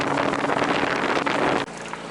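Lashed-together outboard motorboats running on the Lena river give a dense, roaring engine and water wash mixed with wind buffeting on the microphone, then a sudden drop in level near the end.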